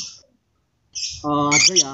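Bright, high lovebird chirps in short bursts, with a harmonic squawk-like call at the end; fairly close and clear, no talking.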